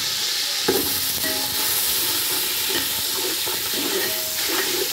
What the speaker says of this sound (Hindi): जैसे ही प्याज ब्राउन हो तो उसमें पानी हल्का सा डाल के ना ज़रा हिला लें।